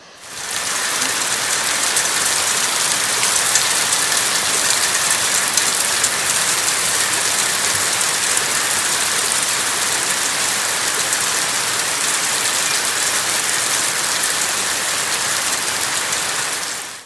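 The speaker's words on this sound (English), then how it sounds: "having so many rain showers, but at least now it's not constant rain all day for days on end" Steady rain shower falling on a garden, a dense, even hiss of drops on surfaces lasting throughout with no talking.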